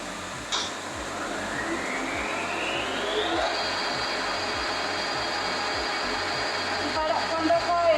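A metal lathe starts up with a lever and runs, its motor whine rising in pitch for a few seconds and then settling into a steady hum over a rhythmic low mechanical ticking, with someone talking over it.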